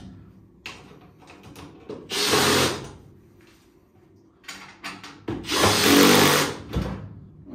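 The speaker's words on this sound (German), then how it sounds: "dann können wir den Rest auch festziehen." Screws are tightened into the metal frame of a dresser with a power driver in two whirring bursts, separated by quieter clicks and handling noises close by.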